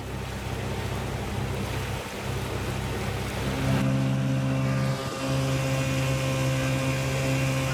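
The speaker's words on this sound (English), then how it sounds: "We got some good wind going down the ICW, so we decided to raise our jib" Steady rush of wind and water along a sailboat running downwind under jib on the Intracoastal Waterway in South Carolina, with splashing wash and a continuous low rumble throughout; no voices.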